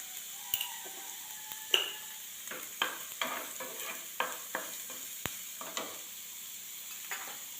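Chopped onion with a pinch of salt sautéing in a pan for rava upma, a soft steady sizzle broken by sharp spatula clicks and scrapes against the pan every second or so.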